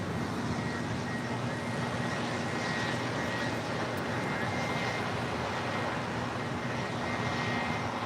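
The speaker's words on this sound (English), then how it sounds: "This flight coming in from Haley, FlexJet flight 584 on this Challenger 350." FlexJet Challenger 350 private jet arriving at LAX, heard as a faint, distant steady engine roar with a broadband wash of noise holding evenly throughout, no voices.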